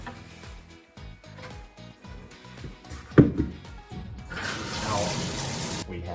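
Water sloshing and pouring in a bucket where grass seed is soaking, with splashing that swells into a steady rushing pour toward the end, close up, with some talk over it.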